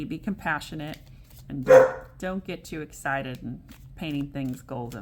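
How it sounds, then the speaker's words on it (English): A dog barks once in the background, a short sharp bark rising briefly over steady close speech from someone talking throughout. "sorry about the dog barking"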